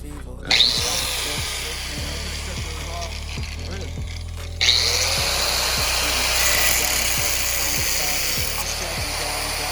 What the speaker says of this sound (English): So I got to drill 2 more holes